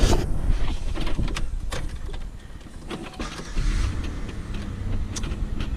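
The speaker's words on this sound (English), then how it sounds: "We have a running car." A Chevy car engine fitted with a new starter runs steadily with a broadband mechanical rumble, close and moderately loud, with scattered clicks and knocks and no talking.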